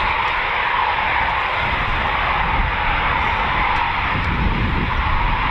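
A Eurofighter Typhoon jet flies a practice display over RAF Coningsby, a loud, steady broadband engine roar that holds constant throughout with no talking.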